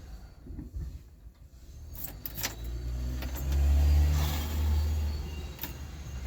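A van engine labours in summer heat, failing to take fuel, with a low rumbling drone that surges and fades, plus a few mechanical clicks and creaks nearby.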